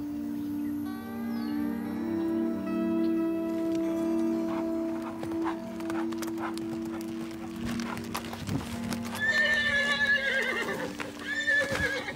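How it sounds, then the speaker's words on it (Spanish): A horse on a ranch in a telenovela whinnies several times, with clip-clop of hooves and a loud, shrill neigh near the end, close and clear. "Tráigame un caballo."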